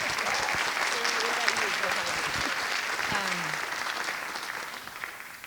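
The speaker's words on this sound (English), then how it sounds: "In fact, another round of applause." Sustained audience applause at a film talk, a dense steady patter of clapping at even loudness throughout, with faint voices beneath and a slight fade near the end.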